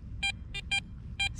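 Garrett Ace Apex metal detector ringing on a target in the coin range: four short, loud electronic beeps in an uneven rhythm, each a bright tone with harmonics, over low background rumble and no talk.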